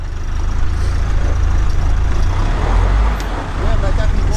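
A diesel off-road vehicle climbs a hill on new tyres, its engine a loud, steady low rumble close by, with a brief dip in level partway through.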